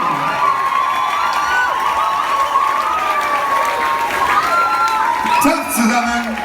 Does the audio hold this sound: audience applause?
yes